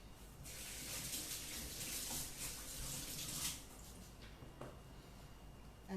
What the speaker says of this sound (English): wash my hands just a bit